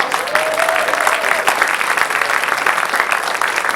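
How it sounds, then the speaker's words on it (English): Audience applause for a high school science fair student at a school district event, steady crowd clapping with a faint voice or tone rising briefly early on. "Please give her a round of applause."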